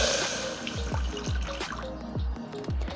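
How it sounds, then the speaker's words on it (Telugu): Water pours into a pressure cooker in a home kitchen, a close trickle with repeated splashy drips and gurgles over about three seconds. "ముందుగా కుక్కర్ పెట్టుకొని అందులో కొన్ని నీళ్లు పోస్తున్నాం"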